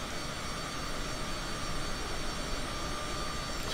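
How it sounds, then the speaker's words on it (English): A steady, loud roar of an airplane engine at takeoff power in Microsoft Flight Simulator 2020, set on a windy day in Pocatello, Idaho. The broadband drone continues unbroken throughout. "It looked like it was about to push me off the runway, but we got the plane up."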